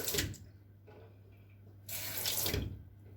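Tap water splashes onto silicone cake molds, two close bursts of running water with a quieter trickling stretch between them.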